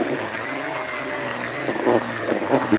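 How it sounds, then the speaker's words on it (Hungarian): An electric drill whirs steadily as it mixes fishing groundbait with water for Danube feeder fishing, with a continuous motor drone and stirring noise that grows slightly rougher and more uneven toward the end. "És ezt újra összefúrom."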